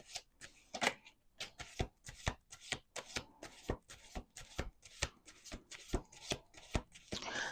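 Tarot cards are riffled and shuffled repeatedly in quick, rhythmic bursts of crisp flutters and taps, close up with no talking.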